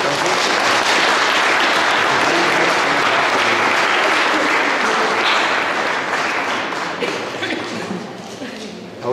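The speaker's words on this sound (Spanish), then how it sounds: "Un aplauso a los cuatro hermanos." A wedding congregation breaks into loud, sustained applause and clapping that fills the room. It carries on steadily, then thins out slightly toward the end.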